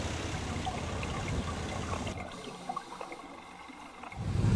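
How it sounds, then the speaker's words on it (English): An underwater camerawoman drops into the sea off Okinawa with a big camera rig, giving a burst of splashing and churning water that briefly quiets, then surges again, fairly close. "there goes Kyoko into the water with her big camera rig"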